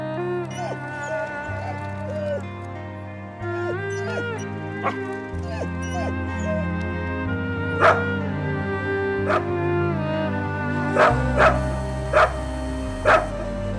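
A pet dog yips and barks in a few sharp bursts, loudest near the end, over a steady background of music, close by.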